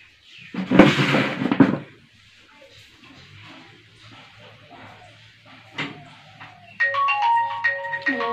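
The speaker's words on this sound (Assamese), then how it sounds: "ভাইটিয়ে ফোন কৰিছেচোন" A mobile phone starts ringing at home for an incoming call. A warbling electronic ringtone rises at the very end after muffled bumps and a quiet room.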